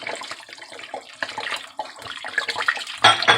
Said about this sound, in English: Let's keep that camera on the pot while I get it filled up